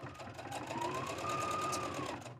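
A sewing machine stitches fabric in one steady, continuous run of rapid mechanical whirring at close range, with no talk.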